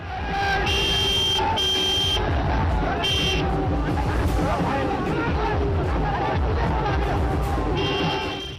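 Dense, noisy crowd at an outdoor election rally greeting the actor Mithun, a steady loud hubbub of many voices with vehicle horns and toots cutting through throughout.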